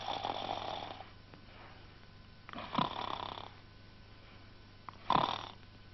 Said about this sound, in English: he began to snore.